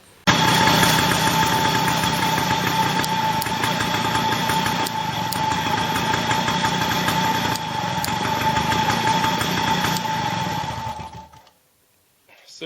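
A moped with contact-breaker ignition runs at a steady, buzzing idle close up after being started, its engine note holding evenly for about eleven seconds before cutting off abruptly as the kill switch is tested, leaving near silence.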